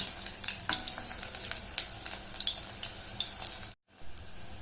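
Chinese potato sticks deep-frying in hot oil on high heat, a steady close crackling sizzle with small pops, cutting out abruptly near the end before resuming.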